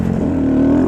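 Honda Grom motorcycle engine at full throttle, a steady rising drone heard from the rider's position, loud and continuous for under a second with no talk.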